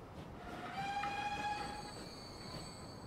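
A train in the Transport Fever video game blows a sustained horn over a steady rumble of rolling wheels, clear and fairly close, with no talking.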